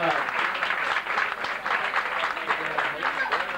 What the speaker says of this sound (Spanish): A ver, un aplauso para Luisjo.